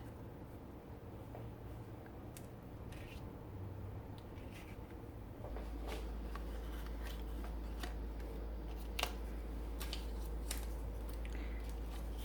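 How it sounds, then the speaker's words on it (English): Scissors snip through a piece of card during wedding or engagement card making, giving a few quiet cuts and rustles close by against a steady low background hum, with no talking. "then I will go ahead and cut that piece out."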